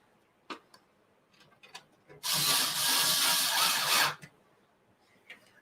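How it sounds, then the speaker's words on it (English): Power drill boring a hole while building a smart humidor with printed parts, a single loud whirring burst of about two seconds, framed by faint clicks and small handling taps before and after. "So we're going to have to drill."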